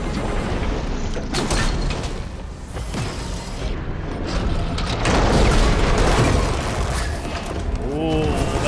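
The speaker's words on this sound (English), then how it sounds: "Alright, let's bring some explosions to this party." Explosions in a video game boom repeatedly amid mechanical clatter and bursts of gunfire, loud and dense, with a rising whine near the end and people talking over the action.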